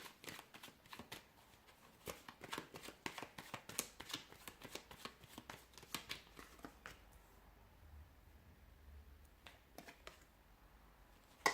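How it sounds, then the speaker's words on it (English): Tarot cards shuffled by hand in a quiet room, a soft, close riffling and patting that comes in short irregular bursts and fades toward the end. "give the cards a shuffle"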